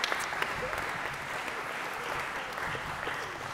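Steady applause from an audience at a spring sports awards ceremony, a dense continuous wash of clapping throughout at even volume.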